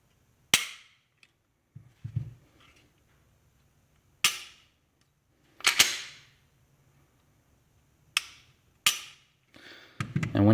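Glock 19 pistol with its factory trigger being dry-fired, giving six or seven sharp metallic clicks spaced a second or two apart. Each snap is close and crisp with a short tail, followed by quieter rattles as the slide or trigger resets.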